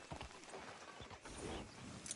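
Horse hooves clip-clop in the Red Dead Redemption 2 video game, a steady trotting patter set against busy town ambience with no talk over it.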